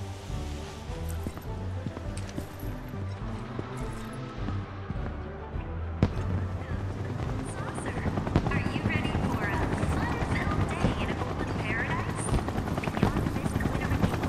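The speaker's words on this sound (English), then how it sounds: "So this is the helicopter that's been like flying around the overworld." A helicopter flies over the overworld in the video game Final Fantasy VII Rebirth, its steady rotor thrum continuous beneath game music and ambient sound, growing slightly louder midway.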